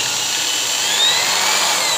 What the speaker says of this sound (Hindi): दोस्तों, अब मैं ड्रिल मशीन को ऑन करता हूँ।